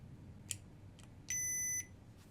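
Two short electronic beeps from an Anakin Revenge of the Sith replica lightsaber's auxiliary button, the second a longer steady tone, faint clicks around them in a quiet room.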